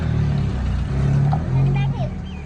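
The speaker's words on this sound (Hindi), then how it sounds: "अभी जी गाड़ी जाएगी अंदर" A car rolls in through a gate at a home, its engine humming and briefly revving close by while people talk over it.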